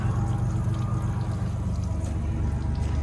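Water from a spring beside the Appalachian Trail flows in a steady, soft trickle close by, alone and without talk.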